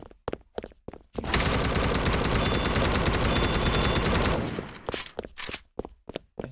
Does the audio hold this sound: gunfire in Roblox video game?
yes